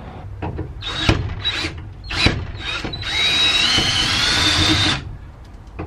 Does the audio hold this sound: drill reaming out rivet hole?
yes